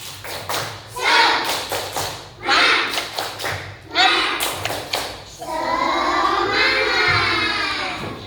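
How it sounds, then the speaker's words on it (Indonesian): Schoolchildren in a classroom clap out a rhythmic spirit clap in quick bursts of sharp claps and thumps, with shouted chanting voices between and after the clapping. "Coba tepuk semangat."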